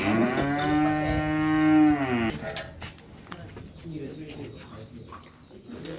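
At a cattle market in Wonogiri selling calves and young bulls for the Qurban sacrifice, a cow lets out one long, loud, rising moo close by. Pigeons coo and a voice talks in the background as the moo fades.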